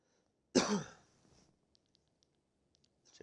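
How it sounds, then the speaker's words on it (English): A single sharp cough close to a headset microphone during a college football video game session, a loud burst followed by faint clicks and a light throat sound near the end. "Sorry about the cough"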